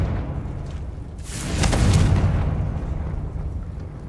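A Confringo spell explosion in Hogwarts Legacy gives a rumbling, swelling boom that builds over a second or two and then slowly fades into a steady low background drone.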